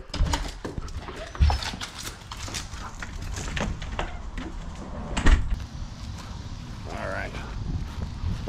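Two Siberian huskies out on a hands-free bungee-lead walk, with a steady rustle of footsteps and movement outdoors, a few louder knocks and thumps, and faint background noise throughout.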